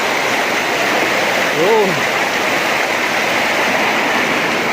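Water cascading down a stream outdoors: a loud, steady, broadband rush that fills the whole clip, with a brief voice heard over it.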